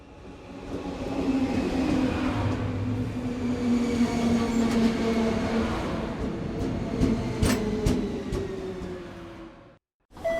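A train rumbles through a station, with a steady low roar, a long drawn-out squeal and clacking wheels. It stays loud and close for about nine seconds, then stops abruptly.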